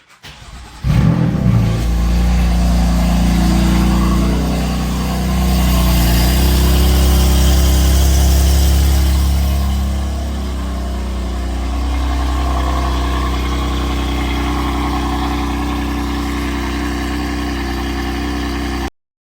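A BMW F82 M4 with the S55 engine, freshly fitted with a flex fuel kit, cranks and fires up, flares briefly, then settles into a steady, loud close idle that rumbles on alone for the rest of the clip.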